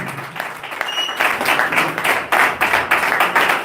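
Applause from a church congregation rolls through the room, loud and rhythmic, with claps pulsing in waves close by.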